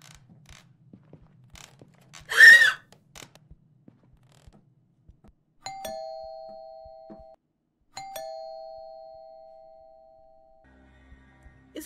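A creak sounds early on, then a doorbell rings twice in Fears To Fathom, each ring a clear sustained tone that slowly fades in an otherwise quiet room.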